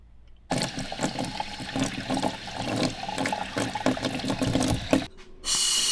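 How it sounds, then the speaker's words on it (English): Water rushes through a house's pipes in a steady, loud flow, close by, with irregular gurgles and knocks, stopping abruptly before a hiss takes over at the end. "I can hear the water running through"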